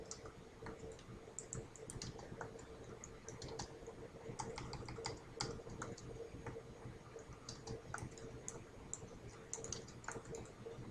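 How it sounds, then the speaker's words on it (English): A file name is typed on a computer keyboard in a steady stream of quiet, close key clicks with a faint background hum. "In the file name box, type Better World Recycling Template."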